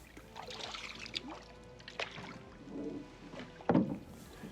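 An aluminium canoe paddles along an old canal: quiet, intermittent paddle strokes and water trickles, with a louder splash and knock near the end.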